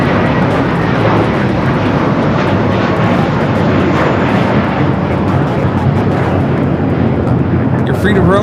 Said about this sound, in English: We have a 777 rolling on the north side.